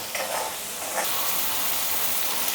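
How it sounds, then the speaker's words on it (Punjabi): Tomatoes and spices cook in oil over a high gas flame, giving a steady, close sizzle and hiss that holds the whole time, with a little stirring near the start. "ਉਹਨਾਂ ਆਪਾਂ ਮਸਾਲੇ ਦੇ ਨਾਲ ਟਮਾਟਰ ਨੂੰ ਚੰਗੀ ਤਰ੍ਹਾਂ ਗਲਣ ਤੱਕ ਪਕਾਵਾਂਗੇ ਇੱਥੇ ਮੈਂ ਗੈਸ ਦੀ ਫਲੇਮ ਨੂੰ ਤੇਜ਼ ਕਰ ਦਿੱਤਾ"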